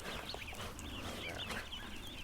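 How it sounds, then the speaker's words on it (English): Ducks eating feed make soft, close, continuous clucking and chattering. "Hang on, little ducks. Oh yeah, look at them. They're sticking their faces right in there."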